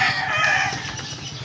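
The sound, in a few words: chicken clucking and flapping wings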